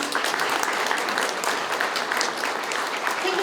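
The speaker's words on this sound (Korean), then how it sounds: "모두 큰 박수 부탁드립니다." Sustained, dense audience applause at a Daegu emergency medical ceremony honoring firefighters, steady and fairly loud throughout with no break.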